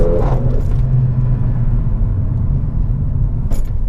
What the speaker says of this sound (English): So all those pops, crackles, that kind of thing.